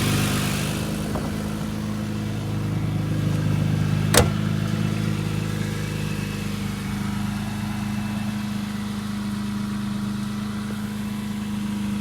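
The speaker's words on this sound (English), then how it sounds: "What a sweet nut of an engine." A BMW E30 M3 engine running outdoors, a close, steady low idle that holds throughout with a slight swell partway and one brief sharp click.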